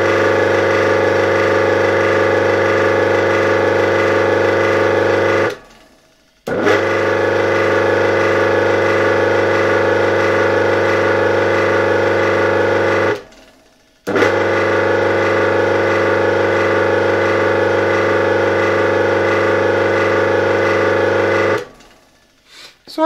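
An old 1964 BZFWr 120/78 electric motor, running on its main winding after a bearing replacement, hums steadily with a buzzing, tonal drone, cutting out briefly twice before starting up again.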